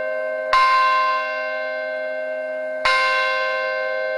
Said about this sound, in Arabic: يستفيق الأمريكيون على أجراس الكنائس مستذكرين الفاجعة الكبرى